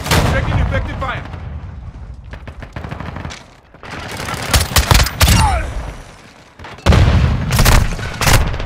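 A Semtex grenade explodes in a Call of Duty match, a loud boom set among repeated close gunfire bursts and booming blasts, with voices calling out over the combat.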